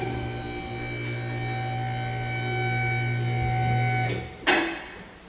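A vehicle lift raises a car in a garage, with a steady electric motor hum and whine that holds for several seconds, then cuts off with a short clunk and hiss as it stops.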